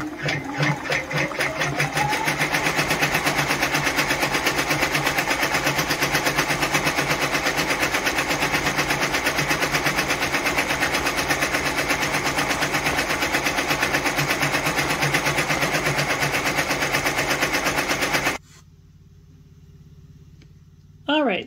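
A Brother PR1055X ten-needle embroidery machine stitches a premade bib in a 4.25 Mighty Hoop, running loud and steady with a fast mechanical rattle for about eighteen seconds before stopping abruptly into quiet.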